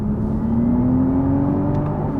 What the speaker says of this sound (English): You can hear there's literally a fake engine noise, and you can actually change it between different settings.